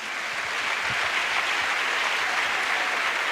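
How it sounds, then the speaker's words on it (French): A congregation at a French-speaking church service applauds in acclamation, producing steady, dense clapping that holds evenly throughout. "Offrande d'acclamation pour le Seigneur Jésus-Christ."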